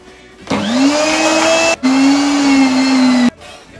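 An electric grinder whirs loudly and steadily as it minces tomatoes and peppers for homemade adjika, cutting out briefly in the middle before running on, then stopping.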